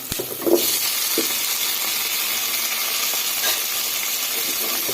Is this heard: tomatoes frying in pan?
yes